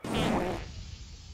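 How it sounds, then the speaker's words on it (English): A cartoon Carnotaurus dinosaur lets out a loud, wet, sputtering fart lasting about half a second, then it trails off into quiet. "Why do I keep farting all the time?"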